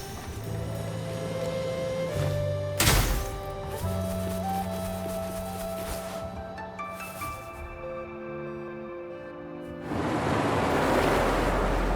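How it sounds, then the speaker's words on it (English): Water draining away in the video game Wuthering Waves: a steady broadband rush that rises into a louder, hissing surge toward the end, beneath layered sustained game music tones. "Look, the water is going down."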